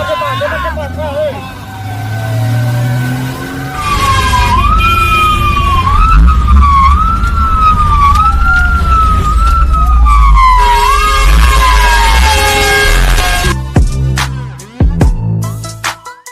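A loud fire truck siren wails up and down over a deep engine rumble, then cuts off abruptly near the end.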